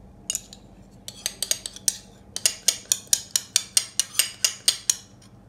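Whisk rapidly beating egg yolks with olive oil, regular oil and mustard for homemade mayonnaise, a steady run of sharp metallic clicks against the bowl, close and clear, speeding into an even rhythm with no talk.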